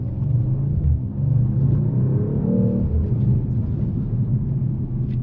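A 2024 Mercedes-AMG CLE 53 Coupe drives with a steady low engine rumble from inside the cabin, its tone rising and dipping slightly as it moves through the gears.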